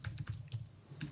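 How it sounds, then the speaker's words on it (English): Keys clatter on a computer keyboard in a quick, uneven run of soft taps, fairly close and quiet. "You're typing, not talking, Steve."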